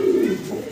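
A pigeon at a farm gives a short, low, close coo, a single throaty rolling call that fades within a second.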